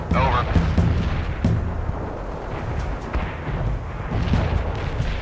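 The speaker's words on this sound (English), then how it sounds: "Zulu 9 are firing mortars at the target coordinates." Mortar rounds fired in the World in Conflict war game, booming repeatedly in a dense battlefield din with low thuds and crackling bursts, while voices talk over the rumble.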